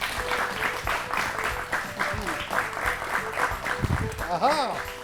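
Applause greeting a correct answer on a children's learning show, a sustained burst of many clapping hands mixed with bright musical chimes and swooping effects, with voices underneath.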